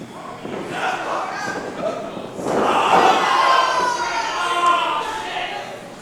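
Spectators at a New Texas Pro championship wrestling match cheer for Bryan Keith, a broad crowd roar that swells in the middle and stays strong, with a commentator talking over it.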